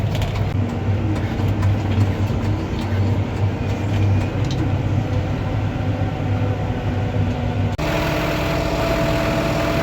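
A tractor engine runs steadily while driving, a low rumbling drone with a change in tone near the end, loud and continuous with no talk.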